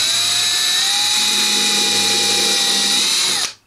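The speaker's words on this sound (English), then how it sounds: "So I'm going to keep drilling this out so I can get my heat probe in here." Power drill boring out glue at the neck joint of a Taiwan-made Yamaha FG230 acoustic guitar, a steady high whine that holds at one pitch for about three and a half seconds, close and loud, then cuts off abruptly.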